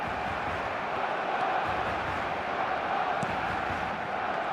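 Simulated stadium crowd in an eFootball match sensing a comeback, a broad, continuous roar of cheering fans at steady volume throughout.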